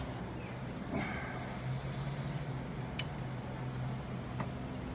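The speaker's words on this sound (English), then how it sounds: "give a quick little spray of WD-40 into the connection joint there" A short burst of WD-40 aerosol spray hisses into a motorcycle connection joint for about a second and a half over a low mechanical hum, followed by a couple of faint clicks.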